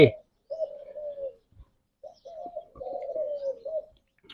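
Doves in a breeding cage give soft, low cooing calls, a short coo followed by a longer rolling series after a brief pause, close and clear against near silence.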